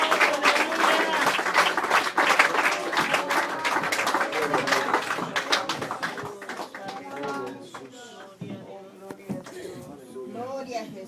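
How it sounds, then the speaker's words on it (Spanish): A church congregation claps and applauds at a revival service, a dense, steady roll of many hands filling the room, with voices calling out over it before the clapping thins toward the end. "Démosle un tremendo aplauso al Señor de la gloria"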